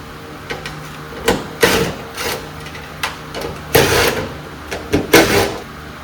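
8 mm bolts being taken out of the fuel pump assembly of a 1996 Camaro Z28, heard as close, irregular bursts of metallic clatter and knocks over a faint steady background.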